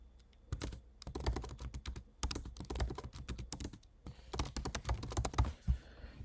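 Computer keyboard typing a document title in Google Docs: bursts of quick, close key clicks with a short pause before the final flurry, no voices.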